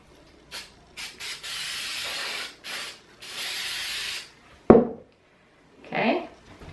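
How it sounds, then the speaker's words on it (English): Several short hissing bursts of a spray can onto fabric, then a longer sustained spray, followed by a sharp knock and a brief rustle. "I'm going to spray this down."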